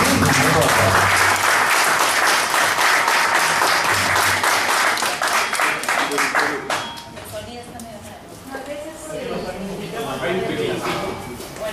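A conference audience at a 4Life product presentation breaks into strong, sustained applause that fades after several seconds into scattered claps, with voices and a speaker talking in the hall as it dies down.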